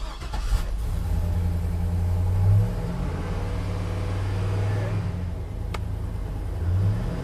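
A 2008 Chevy Silverado 2500 utility service-body truck's 6.0 liter V8 runs steadily up close, with a low rumbling drone and a couple of brief revs rising in pitch; no talking.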